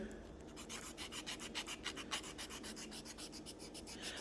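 A grey nail buffer polishes a fingernail with quick, faint, rhythmic rubbing strokes, a steady series of soft scratchy swipes heard close up without talk.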